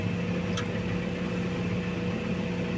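A tractor engine runs steadily throughout, a continuous low, even drone with a faint hum and no breaks or revving.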